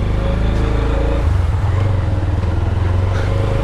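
A small single-cylinder Bangladeshi motorbike engine revs on a street in Lucknow, a loud, close, steady throb that rises in pitch midway, with traffic noise around it.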